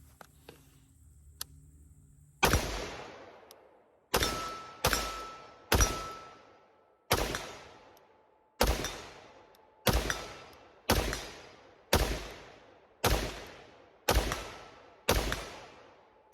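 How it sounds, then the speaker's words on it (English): A Ruger SFAR .308 semi-automatic rifle fires outdoors at a range, about a dozen sharp reports spaced roughly a second apart, each cracking loudly and then decaying, heard alone without talk. "the noise that comes out of this gun is just absolutely ridiculous"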